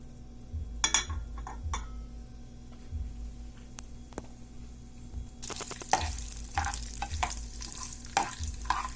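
Tempering spices fry in hot oil in a pan, with a soft sizzle swelling loudly and a few spoon clinks and stirs close by, no voices.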